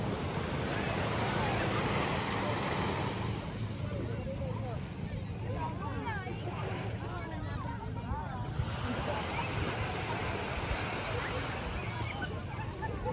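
Sea waves washing onto a beach, a steady broadband roar of surf and wind noise throughout, with people talking over it.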